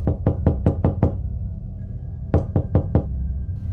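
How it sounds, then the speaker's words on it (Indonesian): Knocking on a bedroom door in a boarding house, two bursts of sharp raps: six quick knocks in a row, a pause, then four more. All are close and loud with no voices. "kamar Santi ada yang mengetuk"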